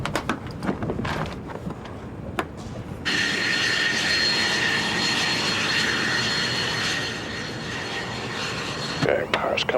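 Aircraft engine spooling up to a loud, steady whine and roar that holds for several seconds after scattered knocks and handling noises, with a high tonal hum layered over broadband rumble.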